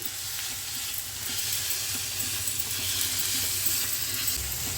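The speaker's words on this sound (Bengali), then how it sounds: "এবারে উচ্ছে ভাজাটা দিয়ে দিচ্ছি, ভালো করে নেড়ে দিই।" Bitter gourd slices sizzle and crackle in hot oil while a spoon scrapes and stirs the pan, steady and close.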